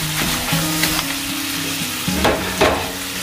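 Squid seasoned with chicken stock powder sizzling loudly in a frying pan, close up, with a few scraping stir strokes cutting through the continuous fry.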